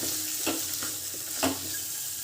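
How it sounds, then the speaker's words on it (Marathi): Turmeric, coriander powder, garam masala and chilli powder sizzling in a hot pan, a steady close frying hiss broken by a few scraping stirs, with no talk. "आता हे सर्व आपल्याला व्यवस्थित फ्राय करून घ्यायचं आहे"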